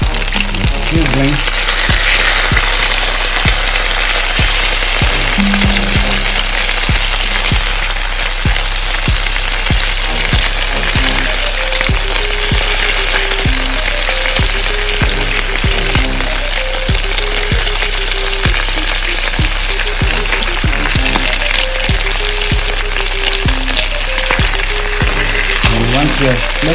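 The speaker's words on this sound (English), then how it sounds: "It's sizzling." Food sizzles and crackles steadily in a frying pan for a long stretch, close and loud, with intermittent taps and scraping as it is stirred or handled.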